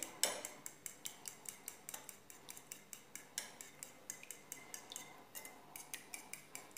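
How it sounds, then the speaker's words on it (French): Eggs beaten lightly with a fork in a bowl for savory cheese-filled crêpes, a steady run of quick, close metallic clicks and taps against the dish with no talking. "les œufs légèrement battus à la fourchette"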